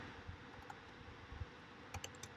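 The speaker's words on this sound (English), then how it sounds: "What I want you to type is type in navigator" Code is typed on a computer keyboard: a few soft, sparse key clicks over a steady background hiss, faint and without speech.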